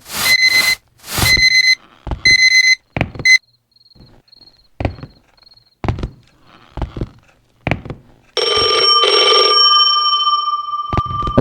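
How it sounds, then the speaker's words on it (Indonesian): An old-style telephone bell rings in a horror video game, several loud, close ring bursts in quick succession, followed by scattered clicks and thumps and then a sustained bright electronic tone. "Telepon."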